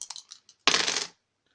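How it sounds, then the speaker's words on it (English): Three dice rattle and clatter onto a surface during a board wargame turn, a short burst of small clicks followed by one quick tumbling roll that stops abruptly. "what I'm going to do is roll again the 3 dice"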